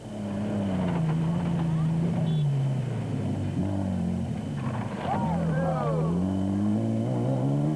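A Castrol Toyota rally car at the 2007 Limpopo 400 rally holds a loud, steady engine drone with rising and falling revs, and someone speaks over it.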